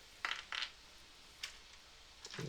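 Dice clatter onto a table in a few short bursts, with quick rattling hits close by, a pause between throws and a last tumble at the end, and no voices.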